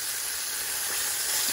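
Fish fries on paper in a pan with a dense, steady hiss of sizzling and spattering oil, close and unbroken for a short moment with no voices.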